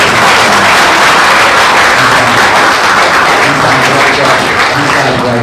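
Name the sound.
audience applause for the moderator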